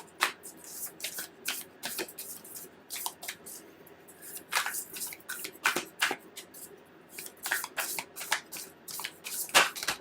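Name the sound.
shuffling and drawing oracle cards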